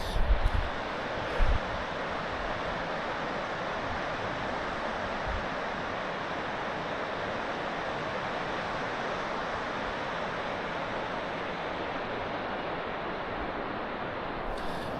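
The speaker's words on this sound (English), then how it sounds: "Man, I love the sound of running water." Steady running water by the sea at sunset, a continuous broadband rush at even loudness, with a couple of brief bumps near the start.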